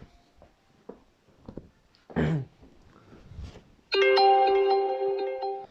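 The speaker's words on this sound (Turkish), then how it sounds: "bildirim sesi için özür dilerim" A phone notification chime rings out loud and sustained for nearly two seconds during a Clash Royale match, after quiet room sounds and a brief throat clearing.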